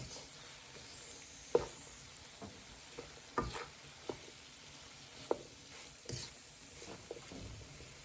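Chicken pot pie filling with potatoes stirred in a pot: quiet, low simmering bubble underneath, with a handful of spaced spoon knocks and soft squishy scrapes against the pot, close by, no voices.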